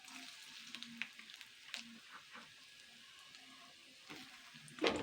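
Peanuts frying in refined oil in a wok give a soft, quiet sizzle with scattered stirring clicks and a sharper scrape near the end, heard alone without talk.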